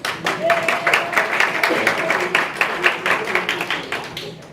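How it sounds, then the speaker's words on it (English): A crowd claps steadily for several seconds, a dense patter of applause with voices mixed in underneath. "Give them a round of applause."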